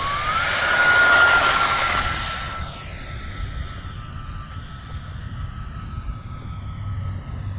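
An E-flite F-14 40mm electric ducted-fan RC jet flies past outdoors, its whine rising loud overhead with a sharp Doppler sweep, then fading to a steady, fainter distant hum.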